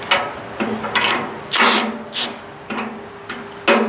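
An impact driver runs 19mm bolts into a snow plow kit frame in short, sharp mechanical bursts, about six of them in under four seconds, close by with quiet gaps between.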